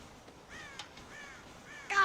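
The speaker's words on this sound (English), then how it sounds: "God damn crows!" Crows cawing in the Red Dead Redemption game, a few harsh caws in separate calls at moderate distance, the last one louder and closer.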